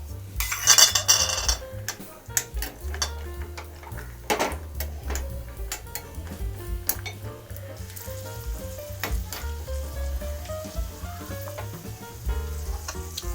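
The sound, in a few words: cashews frying in hot ghee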